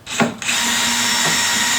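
A power drill with a bit chucked in turns the adjustment of a woodworking router lift built for trim and palm routers, starting with a short buzz, then settling into a loud, steady, close whine.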